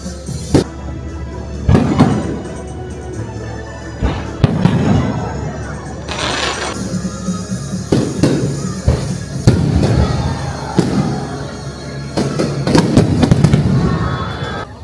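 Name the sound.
fireworks exploding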